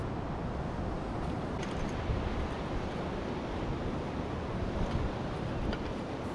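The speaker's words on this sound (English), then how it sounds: "the waves are ideal for great surfing along this beach" Ocean surf breaks along a beach by an inlet, a loud, continuous roar of waves mixed with wind buffeting the microphone, steady across the whole stretch with no voices.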